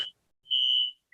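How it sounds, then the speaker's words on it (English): Building fire alarm sounding during a lunchtime lecture, heard as short, bright electronic beeps separated by silence, moderately loud with no talk over it. "they're probably all out for the fire alarm now,"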